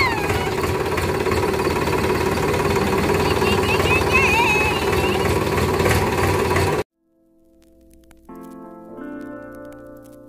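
A tractor engine runs loudly and close, a rough, knocking chug, carrying people on a village outing. After about seven seconds it cuts off abruptly and gives way to soft music.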